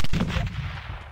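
Explosion in the top-down shooter Teleglitch, a single loud, booming blast with a heavy low-end rumble that decays over about a second.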